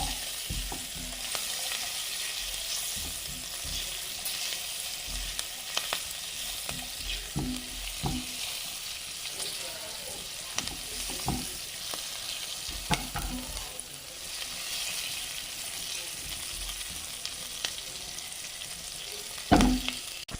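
Slit green chillies fry in hot oil for chicken 65, giving a close, steady sizzle with occasional scraping and stirring clinks throughout, and no voices.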